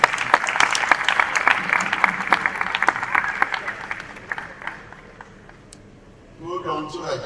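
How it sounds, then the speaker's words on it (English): An audience at a citizens summit gives a round of applause, crisp claps dense at first then thinning and fading out before a voice speaks at the end. "Please, a round of applause for him."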